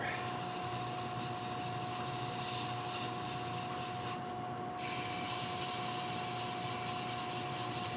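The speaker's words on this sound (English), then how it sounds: "Let's sand this end a little bit here." A wooden scoop end is sanded on a lathe, a steady close rubbing hiss over a constant motor hum, with no talking.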